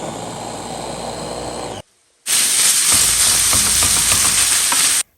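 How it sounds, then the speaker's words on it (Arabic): Meat sizzles loudly in a pan with ghee, a close, dense crackling hiss that cuts out briefly, then resumes even stronger and steady until the end. "هون بلشت بتقلاية اللحمة"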